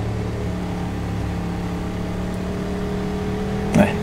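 A KTM 1190 RC8 R motorcycle engine drones at a steady, fairly loud pitch on a racing circuit, with a brief surge near the end as the throttle opens.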